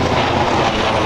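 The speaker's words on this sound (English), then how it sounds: "Fucking helicopter, hold on." Helicopter flying overhead, a loud, continuous low roar with dense rumbling that fills the moment without any pause.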